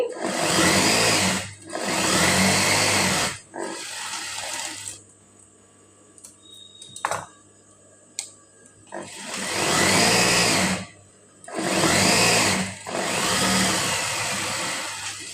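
A sewing machine stitches the side seams of a blouse in loud, close bursts of a second or two each, separated by short quiet pauses with small clicks and handling noises.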